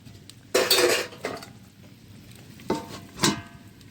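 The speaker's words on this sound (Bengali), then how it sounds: "এবার আমি 2 মিনিটের জন্য ঢেকে দেব।" A metal lid clanks onto a cooking pot of tiger prawns, a sharp close clatter followed by a few lighter clinks and knocks of cookware.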